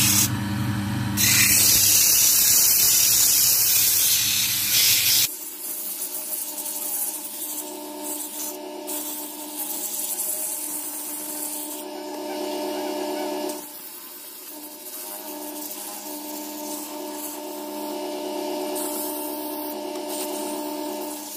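Wood being sanded on a spinning lathe while turning a lamp, a loud broadband rasping for the first few seconds that gives way to a steady motor hum with lighter rubbing over it.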